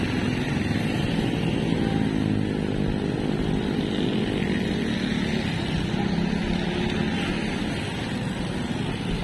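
Fast motorcycles and larger vehicles roar past on a busy bridge in Navotas, a continuous loud, dense engine drone with whooshing passes heard close by from a bicycle.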